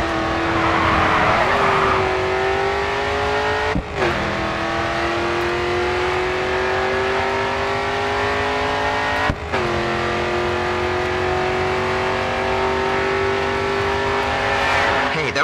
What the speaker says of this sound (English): Full throttle now, coming onto the final straight.